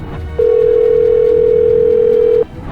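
An unanswered phone call to an official: one long, loud steady telephone tone lasting about two seconds, standing alone above faint background noise.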